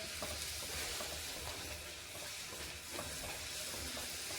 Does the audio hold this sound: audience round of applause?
no